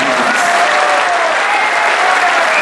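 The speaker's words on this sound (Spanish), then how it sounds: "Los vamos a recibir y los vamos a despedir con un aplauso" Dense, sustained applause from a large crowd at a union assembly of the Mexican Electricians' Union honoring retirees, a steady roar of many hands clapping throughout.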